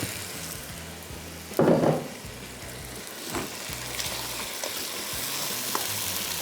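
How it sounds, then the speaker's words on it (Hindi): Beef sizzles and fries in a pan over full high heat while being stir-fried for Delhi bhuna gosht, a steady crackling hiss broken by a few louder scraping stirs, close and with no voices. "आंच फुल तेज़ रखेंगे, इसको भूनते चले जाएंगे।"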